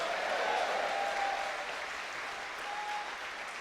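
A church congregation claps steadily and loudly throughout, a dense, sustained wash of applause with a faint tone rising above it.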